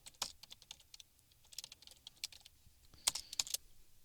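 Quick, light clicks of typing on a computer keyboard while code is being written, irregular bursts of keystrokes with a few sharper, louder taps near the end, close and quiet.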